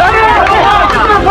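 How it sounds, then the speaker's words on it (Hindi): Crowd of people greeting Mizoram police personnel at the Assam–Mizoram border, a loud, close hubbub of overlapping voices and shouts filling the whole moment without pause. "पुलिस के जयकारे लग रहे हैं।"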